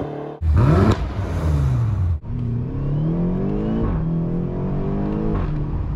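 A BMW with its exhaust flaps held fully open accelerates hard, engine roar rising in pitch through gears with sharp breaks at shifts, loud and close with no talk.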